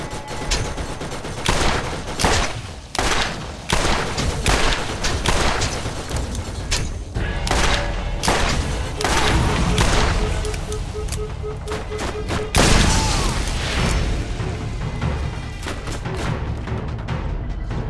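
Rapid bursts of automatic turret gunfire in the video game Borderlands, two turrets shooting in dense, overlapping volleys with heavy booms throughout, loud and continuous with a faint voice underneath.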